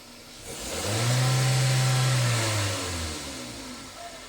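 A 2002 Toyota Corolla E12 engine with a P0420 catalyst fault revs up from idle, holds a steady high roar for a couple of seconds, then winds back down, close by.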